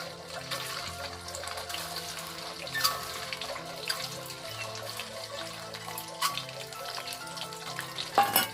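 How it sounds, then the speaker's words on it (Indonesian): Food fries in a pan while a traditional Indonesian nasi tumpeng meal is cooked, giving a steady close sizzle with occasional stirring clatter and soft tonal background sounds. "Kita goreng dulu ya sebentar."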